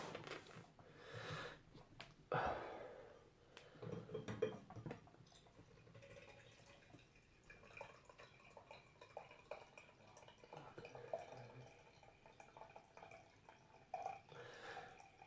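Morland Speckled Hen ale is poured from a small keg into a glass, a quiet, faint trickle and dribble of liquid with occasional drips and light handling noises.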